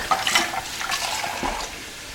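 A kitchen sink with running water as a pan is set into it: a rushing, splashing gush of water with some clinks early on, loud and close, fading slightly toward the end.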